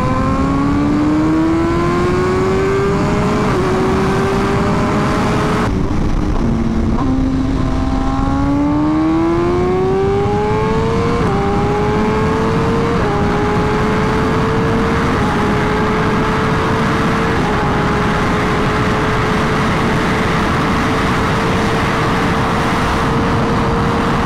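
A 2023 BMW S1000RR motorcycle runs at full throttle, its loud engine note climbing steadily through repeated gear changes with small dips between them, close and constant, with no talking.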